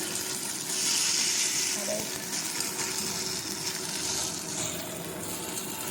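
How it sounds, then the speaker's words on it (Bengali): Ginger-garlic paste sautéing in a pan for a Holi meal: a steady soft sizzle with a watery hiss runs throughout, close and fairly even, with a brief faint voice over it. "সুন্দর করে আদা রসুন বাটার সঙ্গে কষিয়ে নেব"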